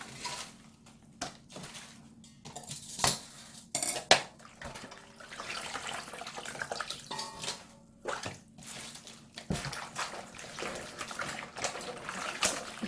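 Radish dongchimi kimchi being tossed by hand in a bowl with brine, giving soft wet sloshing, occasional clinks against the bowl and dripping water, close and fairly quiet.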